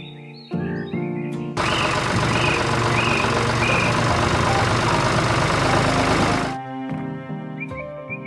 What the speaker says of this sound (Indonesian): Traktor pink dengan ban hijau berjalan di antara bunga-bunga yang berwarna cerah